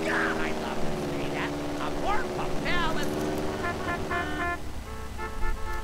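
A small propeller plane drones steadily in GTA San Andreas, with a constant engine hum running under a speaking voice and scattered game sound effects.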